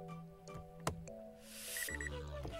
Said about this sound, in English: and you hear this beeping sound?